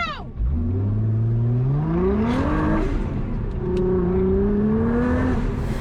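A Nissan R35 GT-R accelerates hard on an autocross lap, the engine rising in pitch through a gear change and pulling again, loud and close from inside the car.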